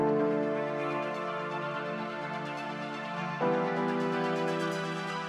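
Sustained music mix of piano and synth pads after EQ, the piano more defined and the pads carrying the bright high end, steady and moderately soft, with a chord change partway through and no talking.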